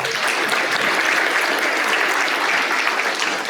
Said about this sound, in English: Let's give Brandy Goodry a round of applause one more time.